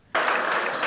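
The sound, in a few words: applause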